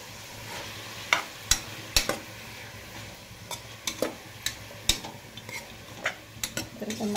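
Chopped green chillies fry in a pan, with a soft steady sizzle under sharp intermittent clicks and scrapes of a spoon stirring against the metal, close by.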